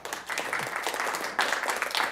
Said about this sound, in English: You all want to applaud each other